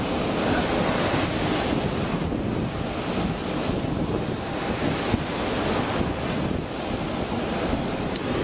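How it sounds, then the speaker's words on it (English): Machine-made surf churns at a beach resort's wave pool, a continuous rushing wash of water mixed with wind buffeting the microphone, steady and fairly loud throughout. "Wave pool time."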